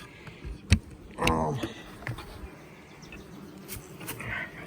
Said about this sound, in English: we got some bees in here